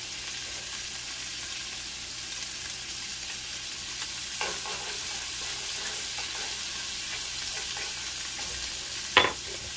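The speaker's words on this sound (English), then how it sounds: "I'm gonna add in my minced garlic" Minced garlic fries in melted butter in a pan, a steady soft sizzle throughout with a couple of brief clinks near the middle and the end.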